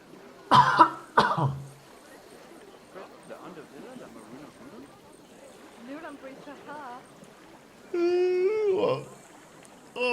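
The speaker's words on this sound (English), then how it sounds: "Okay, I'm going to cough." Two sharp, loud coughs from a person near the microphone open the stretch, followed by quiet murmuring talk and a brief tonal burst of other sound near the end.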